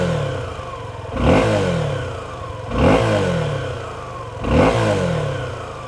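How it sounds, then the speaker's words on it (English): A 2023 Suzuki V-Strom 250SX engine idles quietly, then gets three short blips of the throttle, each rising to a brief rev and settling back to idle, heard close by with no talking. "There it is at idle, and if I just give it a bit of a rev"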